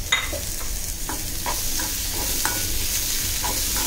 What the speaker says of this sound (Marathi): कांदा टोमॅटो, हे छान टोमॅटो शिजेपर्यंत आपल्याला परतायचं.